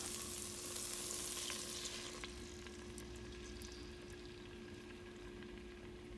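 A roux of coconut oil and flour cooks in a pan on a low-to-medium burner, giving a steady, faint sizzle with a soft frying hiss that holds throughout, and a few light stirring scrapes can be heard.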